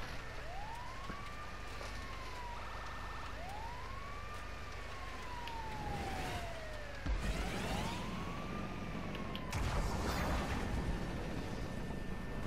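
An ambulance siren sounds in a driving video game, wailing in repeated rising and falling sweeps amid engine and road noise, with a couple of crashing bursts.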